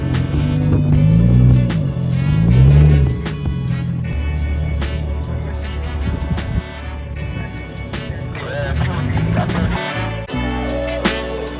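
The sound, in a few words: car engine revving at a car show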